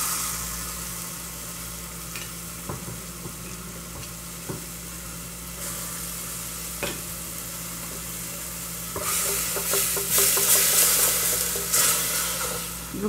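Seasoning frying in olive oil in a pan, with garlic and leek rice about to be added: a steady close sizzle with occasional stirring clicks, growing louder and brighter toward the end, no talking.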